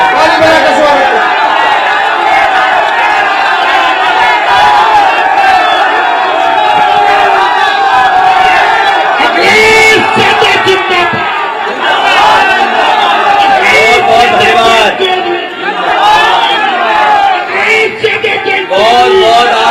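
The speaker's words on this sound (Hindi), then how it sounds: "ताली बजा के स्वागत करें" A large political crowd at a Samajwadi Party press event in Hapur cheers and shouts loudly to welcome Akhilesh Yadav. The whoops and chatter stay loud and crowded throughout, with bursts of voices and clapping layered over one another.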